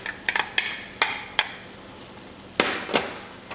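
Chopped onion and garlic tipped onto cooked meat in a pot, heard as a handful of sharp scraping clicks and soft knocks from a spoon against the pot, spaced irregularly over a low sizzle.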